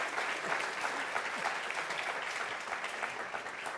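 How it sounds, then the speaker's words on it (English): Audience at a talk on Washington's Civil War forts and parks clapping in a sustained round of applause, steady and fairly distant-sounding, with no speech over it. "Please join me one last time in a round of applause for them"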